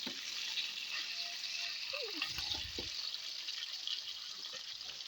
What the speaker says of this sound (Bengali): এবার উল্টে দিয়ে আরেক পাশ ভালোভাবে ভেজে নেব।